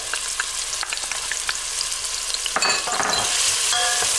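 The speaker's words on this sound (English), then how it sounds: "cover the bottom of your cooking pot with olive oil and add the onion to sauté, the garlic" Onion and garlic sautéing in olive oil in a cooking pot, a dense steady sizzle with frequent scraping stir strokes, close and continuous.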